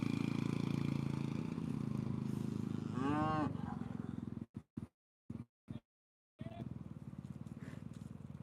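Hereford, Highland and Dexter cattle moo in a loud, drawn-out call close by, followed by a couple of shorter broken lows, with a steady background rumble throughout.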